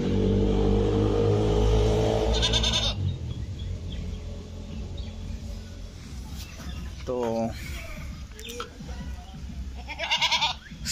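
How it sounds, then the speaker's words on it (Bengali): Goats on a farm, a black one and a red one, giving a few short bleats mid-clip and near the end, under steady background noise and someone talking nearby. "আমার সামনে এখন একটা ছাগল দেখতে পাচ্ছেন, এই ছাগলটা, আর এই সাইডে আর একটা আছে।"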